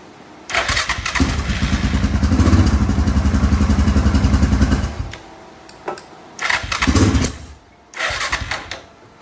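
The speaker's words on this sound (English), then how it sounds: "we got a problem with this motherfucker backfiring" A Yamaha Grizzly 660 four-wheeler with a backfiring problem cranks and catches, running roughly for several seconds with a loud, chugging engine note before cutting out, then firing in two more short, rough bursts.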